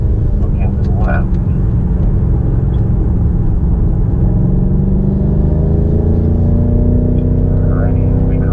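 A BMW M5 Competition accelerating on the Indianapolis Motor Speedway F1 road course, a loud steady engine drone rising in pitch under wind noise, with a voice talking over it.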